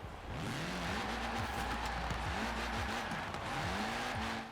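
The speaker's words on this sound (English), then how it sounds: "It literally just sounds like a rally car." A Ford Puma races in Forza Horizon 4, its rally-like engine droning steadily with pitch rising and falling through gear changes, along with hints of tire squeal.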